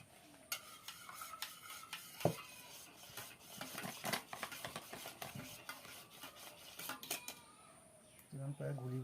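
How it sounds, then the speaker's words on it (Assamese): A spoon stirring sugar into milk, giving soft repeated scraping and clinking against the cup, faint and uneven, with a voice talking at points. "চেনি এচামুচ এটা মিক্স কৰি দিওঁ।"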